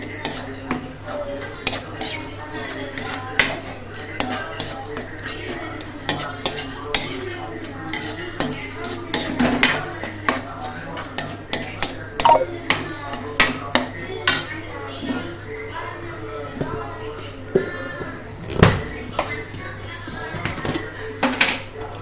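Turmeric powder being stirred into sautéed tomatoes in a pan for tomato rice, with steady clinks and scrapes of a utensil against the pan throughout, close and fairly loud.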